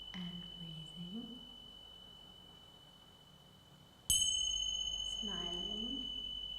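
A single bright bell strike rings out clearly and decays with a long shimmering tail, following a quieter stretch with faint talk in the background.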